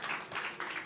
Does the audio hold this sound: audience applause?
yes